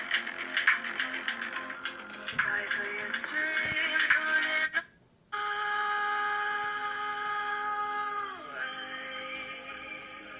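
A ringtone plays through the built-in speaker of an Alcatel 3X phone: a loud, steady electronic melody with a tinny, harsh tone and a brief drop-out in the middle, with no other sound.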